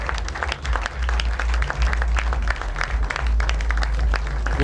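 An audience applauds Rev. Sunday Folayan at the unveiling of ExCEL 360 Plus, clapping in a continuous, even burst that stays full and close from start to finish.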